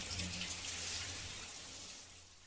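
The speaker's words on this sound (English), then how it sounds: "and finally the sound of running water" Steady running water from a video game, a continuous bright rushing hiss that holds even for a couple of seconds and eases slightly at the end, with no voices.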